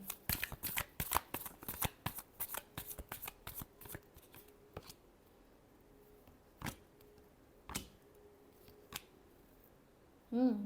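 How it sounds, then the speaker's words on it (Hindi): A deck of tarot cards is shuffled close by, a quick flurry of crisp riffling snaps that thins to a few isolated slaps, then stops, with a short voice at the very end. "Last shuffle."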